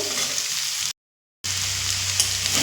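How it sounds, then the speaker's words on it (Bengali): Loud, steady sizzling of potatoes frying in hot oil on a high flame, broken by a brief half-second of silence before the crackling hiss resumes. "হাই ফ্লেমে আমি দু থেকে তিন মিনিট ভেজে নিয়েছি"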